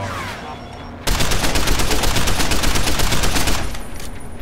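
Enemy gunfire in Deus Ex: Human Revolution: after a short lead-in, a loud, dense burst of rapid automatic shots hammers steadily for about two and a half seconds, then cuts off into quieter ambience.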